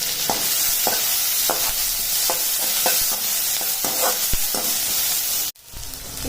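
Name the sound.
onion and green chili sautéing in a pan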